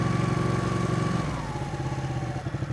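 Ducati Panigale motorcycle, a 959 or 899, running with a 2-into-1-into-2 exhaust, a steady loud pulsing engine note close by that drops slightly in pitch partway through and keeps throbbing.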